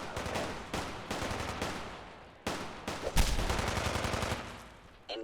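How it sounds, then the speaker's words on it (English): Bursts of gunfire in the Fallout 4 video game, with repeated loud volleys and rapid shots in several clusters, including a heavier burst near the middle, with no talk. "What are they shooting?"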